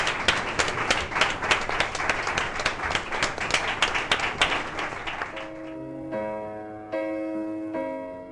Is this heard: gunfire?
no